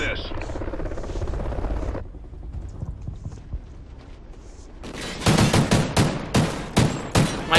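Video game gunfire from an online competitive shooter match, heard as a loud run of rapid, sharp shots packed into the last few seconds after a quieter stretch of game sound.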